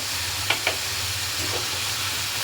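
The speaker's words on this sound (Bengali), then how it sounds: "এরপর মশলাটাকে খুব সুন্দরভাবে ফ্রাই করে নিতে হবে, যাতে গন্ধটা না থাকে" Ginger, garlic and green chili paste frying in a pan, a steady broadband sizzle and hiss with a low hum beneath and a couple of brief clinks early on.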